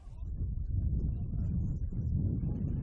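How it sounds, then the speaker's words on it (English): Strong wind gusts at Hume City Stadium during a football match in rain: low, rumbling wind noise blowing steadily across the microphone, moderately loud and continuous without any voices. "Some strong wind gusts blowing across Hume City Stadium right now."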